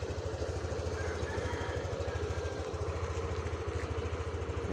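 A motorcycle engine idles close by, a steady low, even throb with fast regular pulsing that holds without a break from start to finish.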